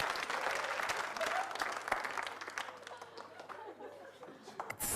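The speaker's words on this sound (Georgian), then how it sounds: "აპლოდისმენტები." A New Year concert crowd at a Saturday TV show breaks into steady, dense applause that fills the whole stretch, with voices and a few laughs mixed in beneath the clapping.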